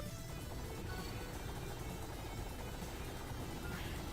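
A faint, steady video game helicopter drone with a rapid rotor flutter, continuous and distant throughout.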